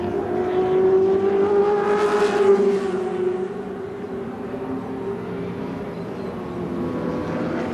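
A 1981 Group C touring car roars past on the Adelaide race circuit, its engine note rising loud then fading as it moves away, leaving a steady distant drone.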